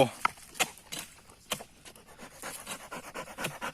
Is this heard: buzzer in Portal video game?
no